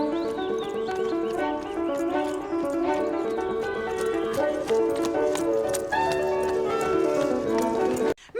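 A horse's hooves clip-clop in a steady rhythm over layered orchestral music, with a brief neigh mixed in and a sudden cutoff at the end.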